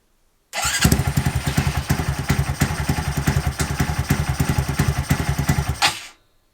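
A 2022 Honda Monkey with a 181cc engine build fires up and runs close by, a loud, choppy single-cylinder putter with rapid regular pulses for several seconds before cutting off abruptly.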